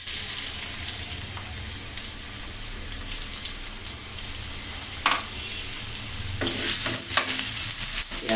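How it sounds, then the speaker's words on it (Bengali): One cup of chopped onions frying in about half a cup of oil for a beef liver dish, a steady close sizzle with stirring scrapes that grow louder near the end, no talking. "এখন এখানে দিয়ে দিব 1 কাপ পেঁয়াজ কুচানো।"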